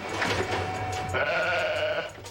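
A sheep bleats in a wavering, nasal call that swells midway and fades, heard clearly over a low background hum.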